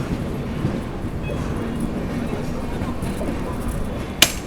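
Goa Sampark Kranti Express rolling along the rails at speed, a steady low rumble with a constant broadband rush and a sharp metallic clank near the end, with faint voices in the background.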